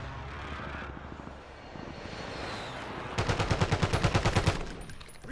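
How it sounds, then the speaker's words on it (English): In a Call of Duty match, an aircraft drones overhead, then a rapid, loud burst of automatic gunfire rattles in even pulses for over a second before fading. "Enemy UAV overhead"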